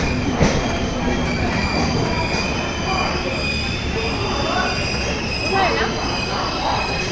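The Agniveena Express, a train running from Howrah to Asansol, rolls into Barddhaman junction with a loud, constant rumble of wheels on rails, a high thin squeal of wheels and occasional clanks, heard from on board.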